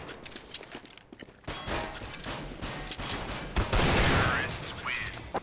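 Bursts of gunfire in Counter-Strike: Global Offensive, shooting through walls: rapid, dense shots come in clusters, loud and close, with a heavier volley near the end.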